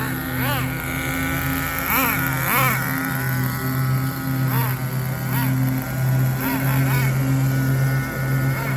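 Small nitro engine of an HPI RS4 RC car buzzing steadily at idle with repeated sharp revving bursts, close by, someone talking over it at moments.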